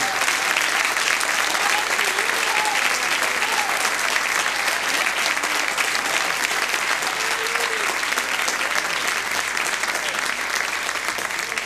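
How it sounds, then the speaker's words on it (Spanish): Sustained applause from a church congregation during a Mother's Day service, loud and steady throughout, with faint voices calling out beneath the clapping. "Denle un aplauso a él"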